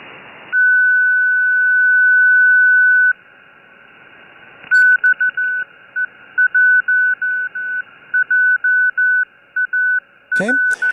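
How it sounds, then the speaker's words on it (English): A long steady tone, then a rapid run of short on-off Morse code beeps on an 80-meter ham radio band in an irregular pattern, ending with a brief burst of static. "You can hear two distinct Morse code sends right there."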